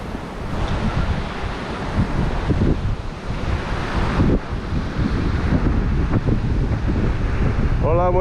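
Rough surf at Cabarete beach pounds and washes on the shore under heavy gusting wind noise, with a steady roar throughout and a brief voice at the very end.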